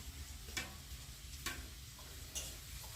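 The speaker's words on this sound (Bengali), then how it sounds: "ওই যে মাছের মাথাগুলো ভাজছি" Fish heads frying in a pan in a home kitchen give a faint, steady sizzle, broken by a few sharp clicks about a second apart.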